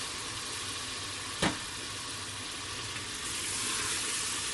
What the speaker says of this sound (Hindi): 1 चम्मच खाने वाला आपने सिरके का डाल देना है इसमें और इसको खूब फ्राई कर लेना है